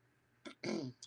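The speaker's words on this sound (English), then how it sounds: "I'm so sorry for my coughing" A short, close throat-clearing cough in two quick bursts, quiet overall, with no talk.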